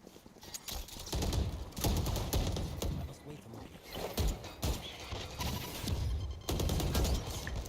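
Rapid gunfire bursts from the video game Valorant, played in an esports match, crack in dense clusters with brief gaps, loud and busy throughout.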